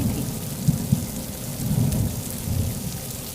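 Heavy rain pours down in a steady wash while low thunder rumbles close by, with a couple of sharper cracks in the first second, and no voices are heard.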